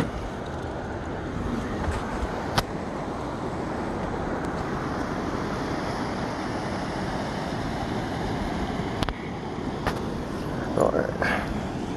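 A river by Yosemite rushes with steady broadband wash, continuous and fairly close, while people talk over it and a few brief knocks and clicks break through.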